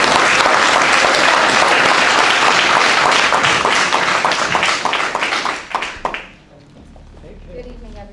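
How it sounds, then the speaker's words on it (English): A hall of fame ceremony audience bursts into a loud, dense round of applause for an honoree, many hands clapping at full intensity for several seconds before quickly dying away into near quiet. "Please give a round of applause for Kayla."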